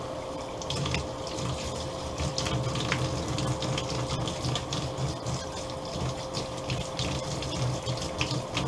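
Water runs steadily from a tap while a chrome ring from a classic Willys CJ-2a Jeep is polished, a continuous close splashing hiss with faint rubbing underneath.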